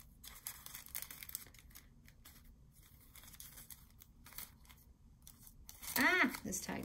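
Quiet, intermittent snips and rustles of dull scissors cutting paper, ending in a louder burst of crisp cutting and crinkling near the end.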